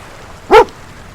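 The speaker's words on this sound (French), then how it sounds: "Qui veut le chien?" A dog in the Sea of Thieves video game gives a single short, loud bark in the middle of an otherwise quiet stretch.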